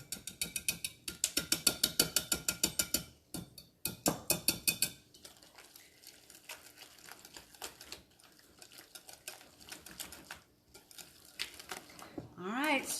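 Cream cheese being stirred into eggs in a pan, a quick rhythmic scraping and clacking of the utensil repeating several times a second in close bursts, with someone talking over parts of it.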